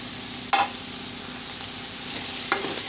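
Salted cucumber and tomato curry simmers in a pan with a constant soft sizzle, and a utensil knocks the pan twice in two brief clinks during stirring.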